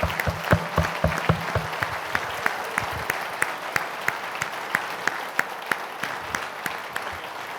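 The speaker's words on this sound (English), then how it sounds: "I'm going to request that we all stand up and join me in giving a very deserving round of applause to Pastor Kpojo." Audience applause at a speaking event, a steady wash of many hands clapping with sharp individual claps standing out, sustained throughout at moderate loudness with no talk over it.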